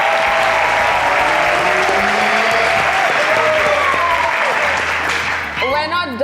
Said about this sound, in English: let's have the loudest, most rousing applause as a thank you to Uncle Kunle Coker